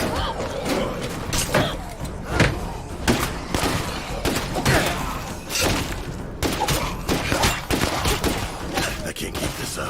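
Repeated loud gunshots in the zombie survival game State of Decay 2, rapid irregular volleys with thuds and impacts filling the stretch, a voice talking in between.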